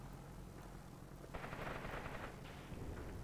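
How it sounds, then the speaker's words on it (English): Heavy machine guns and 20mm cannon fire in a Graviteam combat game with a Soviet assault on fortified German positions. The distant, muffled bursts roll under steady rumbling noise and swell into a louder stretch midway. "Probably some heavy machine guns and 20mm cannon shells being fired would be my guess."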